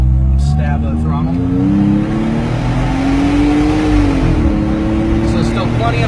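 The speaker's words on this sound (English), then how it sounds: "So we'll do a little stab of throttle." An off-road vehicle engine at a Rebel Offroad visit gives a short throttle stab, with a steady low engine drone that swells briefly into a rev and settles again. The sound is loud, close and continuous throughout.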